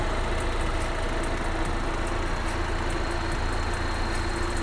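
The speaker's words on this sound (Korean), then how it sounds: "엔진 소리 일정합니다" A BMW Z4 (G29) sDrive20i sports car engine idles steadily, an even low rumble with a faint rhythmic ticking on top, unchanging throughout.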